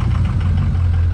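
A Ford F250 engine running at high idle with the emergency brake set, a steady low rumble that stays close and even without any talk.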